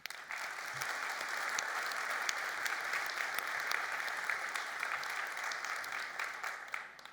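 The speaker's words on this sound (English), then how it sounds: "So really a big round of applause for the Commerce Advisory Board as well." A conference keynote audience applauds the Commerce Advisory Board, a large crowd's sustained, even clapping that holds steady from start to finish.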